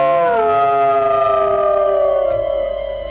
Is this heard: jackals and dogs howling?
yes